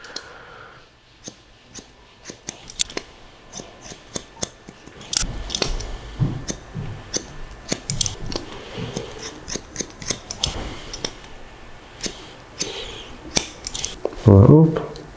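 Scissors snip repeatedly through curly hair during a short curly haircut, crisp close cuts in an irregular rhythm, ending with a louder burst near the end.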